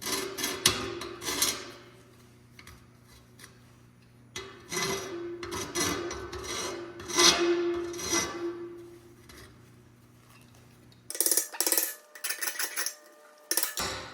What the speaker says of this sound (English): Basically all you're doing is kind of filing off that edge.